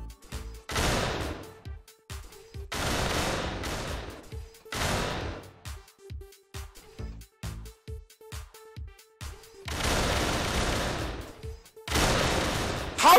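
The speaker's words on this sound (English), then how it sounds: "Shoot the fucking gun!" Gunfire in the party video game Pummel Party, heard as several loud, dense bursts of rapid shots separated by short pauses, with a final burst at the end.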